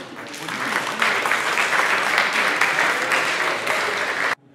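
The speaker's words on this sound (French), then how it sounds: "On l'applaudit, s'il vous plaît." An audience applauds a volunteer on stage at a hypnosis show, with loud, dense, sustained clapping that holds evenly for about four seconds and then cuts off abruptly.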